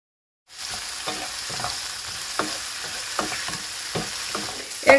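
A tomato and chickpea curry base fries and is stirred in a pan, a close steady sizzle broken by repeated spoon scrapes and clinks at an unhurried rhythm.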